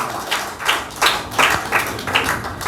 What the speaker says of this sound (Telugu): చప్పట్లు కొట్టి దేవుని కనపరచు.